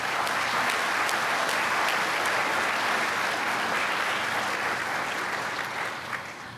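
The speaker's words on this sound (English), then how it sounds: "Let's give them a round of applause." Sustained audience applause at a fall community college commencement ceremony, a steady dense patter of many hands clapping that holds for several seconds before tapering slightly at the end.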